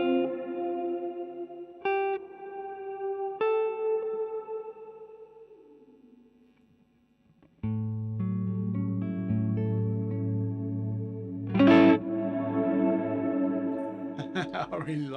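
Electric guitar played through a Mvave Mini Universe effects pedal set to a blue mode, notes swelling and blooming into a sci-fi wash of chorus and echo; sustained chords ring out, fade, then return louder with a bright swirling burst near the end, no talking.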